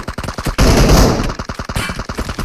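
Automatic gunfire in the mobile battle royale game PUBG Mobile: rapid close bursts of shots crackle throughout, with a dense sustained volley in the middle and no talking.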